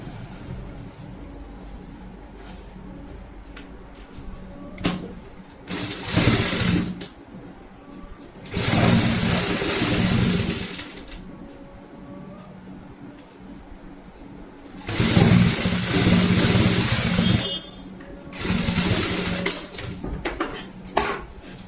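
A sewing machine stitches a zip onto a 12-inch box cushion cover in several bursts of rapid mechanical whirring, close and fairly loud, with quiet handling noises between runs.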